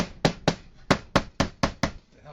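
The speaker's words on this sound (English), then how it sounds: "I'm also going to try a little gentle tapping with a rubber hammer from the inside" A rubber hammer taps gently on the soft aluminum skin of a vintage travel trailer from the inside, eight evenly spaced dull knocks, close and fairly quiet.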